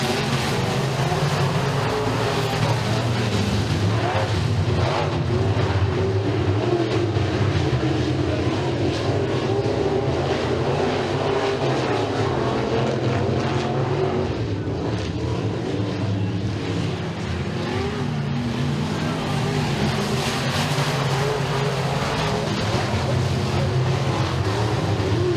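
Race cars roar in a steady, loud, continuous drone at Eriez Speedway during a heat race restart under green flag. The engines stay dense and sustained without letup, with no clear voices.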